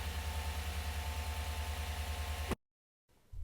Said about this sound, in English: Run the engine until it gets to normal temperature and check for any coolant leaks.